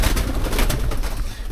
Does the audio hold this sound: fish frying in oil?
no